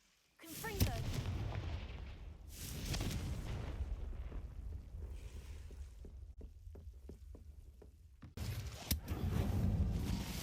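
A Confringo spell blast in Hogwarts Legacy, heavy booming explosions with rumbling bursts and debris crackle, loud and close, with a brief quieter gap before another blast.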